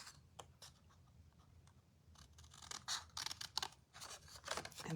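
Scissors snip through paper along a scored line for a small Halloween treat box, a quick run of short, crisp cuts that grows louder and denser toward the end, close by with no talking.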